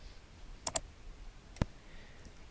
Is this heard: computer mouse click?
yes